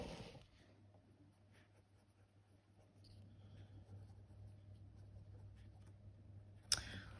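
A colored pencil shades a dark green gradient on paper, a faint soft scratchy scraping at close range over a low steady hum, ending with a brief sharp tap.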